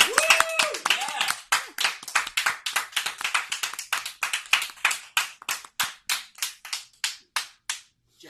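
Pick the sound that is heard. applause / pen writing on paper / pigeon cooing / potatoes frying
applause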